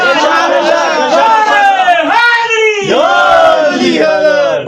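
A large crowd at a religious gathering shouting slogans in unison, loud rhythmic chanted cries that rise and fall in long sustained bursts, close and dense, with a leader's voice mixed in.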